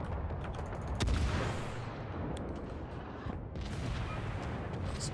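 Ship gunfire booms and explosions in the World of Warships Halloween game mode, several loud blasts over a rumbling battle background with a sharp report near the one-second mark.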